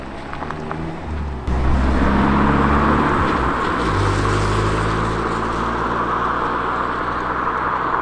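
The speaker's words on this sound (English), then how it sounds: "Car's just pulled up, and it sounds like they're walking around the van" A car engine rumbles close by, swelling suddenly and then holding a steady, heavy drone with some wind noise.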